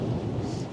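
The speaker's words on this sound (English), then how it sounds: "You can hear the thunder" A low, rolling rumble of thunder during a storm in the rural mountains of Colombia, a short, steady growl with rain hissing faintly over it.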